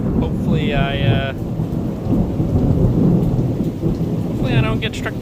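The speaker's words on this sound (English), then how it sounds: "it's been storming" Steady rain and rolling thunder from an outdoor thunderstorm fill the whole stretch as a loud, dense roar, with brief voices speaking over it near the start and end.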